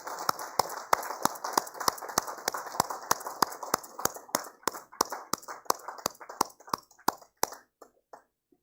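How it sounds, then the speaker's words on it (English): Audience at a sanitation awards ceremony clapping in a steady run of sharp claps that thins and trails off into a few scattered final claps. "A big round of applause for the government of Bihar."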